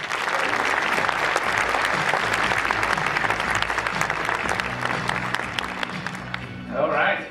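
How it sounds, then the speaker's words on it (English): A conference audience at BC TechDays 2024 gives dense, sustained applause to welcome speakers to the stage. It is loud and even throughout, then thins out near the end as a voice starts speaking. "AJ, we got our applause"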